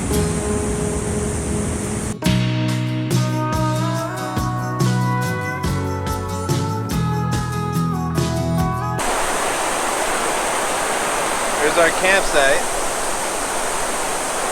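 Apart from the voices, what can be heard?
rushing water near Havasu Falls campsite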